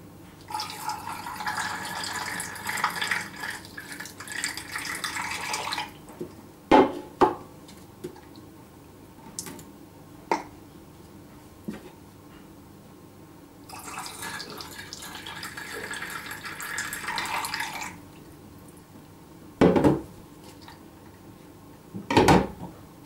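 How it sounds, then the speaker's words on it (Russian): Acidic descaling liquid from a Junkers Euroline ZW 23 KE gas boiler is poured into a bucket in two splashing bursts, with scattered drips and sharp clinks of hard parts between them. No one speaks. "Поэтому я всю жидкость буду выливать в это ведерко."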